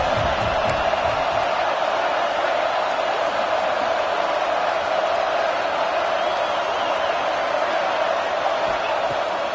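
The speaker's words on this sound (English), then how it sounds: "The Tide crowd rolling noise down on the Saban field on third down." A large college football stadium crowd in the NCAA 26 video game roars continuously at a steady, loud level on third down, a dense wash of voices with no breaks.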